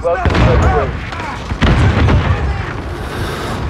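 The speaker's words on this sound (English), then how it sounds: "Throwing grenade." A grenade explodes in the Call of Duty Modern Warfare video game with a loud booming blast and rumbling tail, followed by further gunfire bursts, while a player talks over the action.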